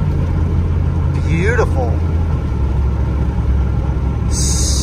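A second-generation truck's engine rumbles steadily as it shifts through gears, with a brief rise and fall in pitch, while a person talks over it.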